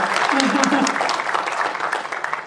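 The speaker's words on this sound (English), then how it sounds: "I think we need a round of applause for the people in the room who made this happen" A lecture audience breaks into warm, sustained applause, a busy patter of many hands at moderate loudness that eases slightly toward the end, with faint voices mixed in.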